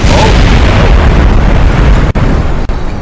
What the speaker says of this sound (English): Complete explosion.